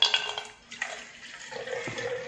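Filtered water splashes and trickles as it is poured into the humidifier bottle of an oxygen cylinder, a faint, close pouring sound with small gurgles.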